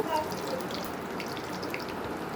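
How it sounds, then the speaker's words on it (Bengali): Chopped onions sizzle and spit in a hot pan (kadai), a steady dense hiss running through the whole stretch at moderate level with faint crackles on top. "পেঁয়াজটা দিয়ে ভালোভাবে একটু ভেজে নিব।"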